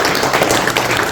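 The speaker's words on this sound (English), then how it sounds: "If we could all give them all a round of applause for being here" Audience members at a local candidates forum applaud the candidates, a short, fairly loud round of close clapping that stays even for about a second with no voices over it.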